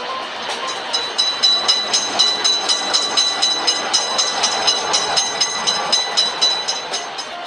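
A train rolls past at a cartoon railroad crossing in a video game, steady rhythmic clickety-clack of wheels over rail joints, a continuous loud rumble and a faint high whine.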